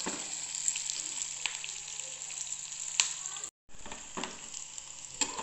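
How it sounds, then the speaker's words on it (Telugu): Onions frying in a pan for a bitter gourd fry, a steady close sizzle with occasional stirring clicks, broken once by a brief silent gap. "ఈ ఆనియన్స్ ఫుల్ కలర్ వచ్చేదాకా మనం ఫ్రై అవ్వనివ్వాలి."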